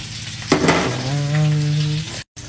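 Onion and garlic hit a hot pan and start sizzling loudly, with a short clatter of stirring and a steady frying hiss close by, briefly cut off near the end.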